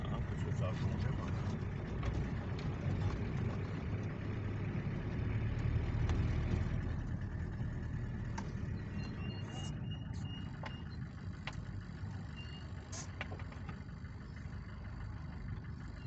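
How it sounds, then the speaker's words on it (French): Heavy road traffic in Joly-Tours forms a continuous rumble of passing cars and trucks with engines idling and moving, fairly close and steady. Voices talk over it throughout, with a few sharp clicks toward the end. "Il y a beaucoup de circulation à Joly-Tours."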